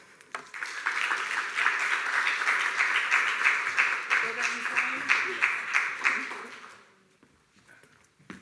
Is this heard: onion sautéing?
no